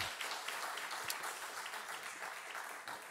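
Seminar audience clapping for students, a steady patter of many hands applauding at moderate distance, continuous and fairly even for the whole stretch without talk.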